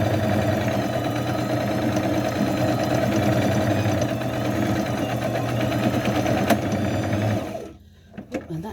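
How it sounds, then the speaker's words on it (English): A sewing machine runs steadily, stitching around the edge of fabric for a NICU graduation gown, a close, even mechanical whir that stops abruptly near the end, followed by a few faint clicks. "let's just sew around the edge of this first"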